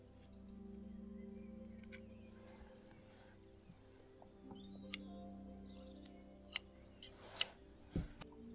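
Scissors snip through a piece of ribbon in a quiet shop setting, giving several crisp, sharp clicks near the end, close and soft against a faint background hum.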